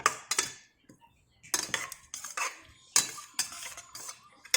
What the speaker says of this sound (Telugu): ఇలాగా పెరుగు వేసుకొని కలుపు కలుపుతూ ఉండాలి